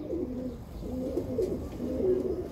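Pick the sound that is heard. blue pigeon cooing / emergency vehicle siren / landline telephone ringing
blue pigeon cooing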